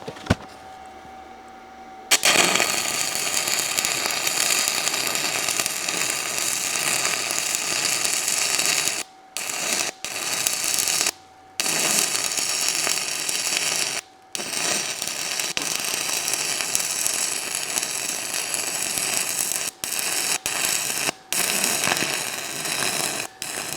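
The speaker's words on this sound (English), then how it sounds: "I want to try to run another Hobart rod, 120 amps, 1/8 inch, 60-10" Stick welding with a Hobart 6010 rod, 1/8 inch, at 120 amps: a loud, steady crackling arc that runs for long stretches, broken by several brief gaps where the arc stops and restarts.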